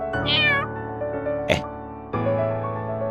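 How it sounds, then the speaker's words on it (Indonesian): A cat meows several times nearby, with long drawn-out cries separated by short pauses and a brief click in between. "Kucing tuh."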